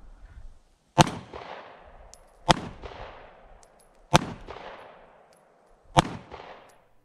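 Four sharp gunshots from a Diamondback DB9 pistol fired at a steady, unhurried pace about 1.5 seconds apart, each a loud crack with a short ringing tail, no talking between shots.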